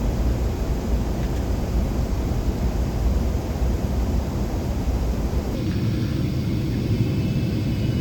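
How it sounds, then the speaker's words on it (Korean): Steady broadband roar of an ANA airliner cabin descending toward London Heathrow, constant engine and airflow rumble with no talk, its tone shifting slightly lower partway through. "이제 비행 시간이 20분 정도 남았고 런던 히드로 공항에 착륙할 준비를 했습니다"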